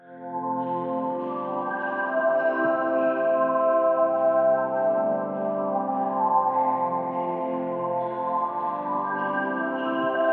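A sustained, smooth synth pad built from a simple sine wave with FL Studio stock plugins hums with rich layered harmonics, shimmering and slowly shifting with chorus-like movement and echo, with no voices.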